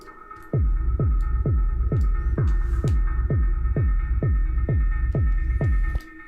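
Techno breakdown background loop drenched in heavy reverb, a steady throbbing low pulse repeating roughly every 0.4 seconds over a sustained humming pad, loud and alone until it cuts off near the end.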